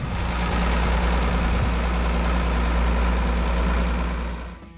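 A Case 1570 tractor engine runs steadily, a loud, deep diesel rumble held close and constant for several seconds before fading off at the very end.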